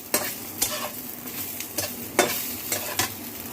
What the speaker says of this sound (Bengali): এবার আমি কালো জিরে গুঁড়োটা 2-3 মিনিট নেড়ে চেড়ে নিয়েছি সবজির সাথে